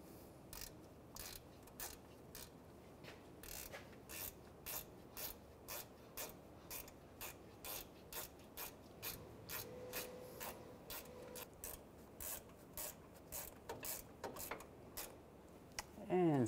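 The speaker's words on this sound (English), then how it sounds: "Take the ratchet wrench, get the bolt all the way on." A ratchet wrench tightening a bolt while replacing an impact airbag sensor on a 2007-2013 Chevrolet Silverado, quiet steady clicking strokes repeating in an even rhythm throughout, close and faint.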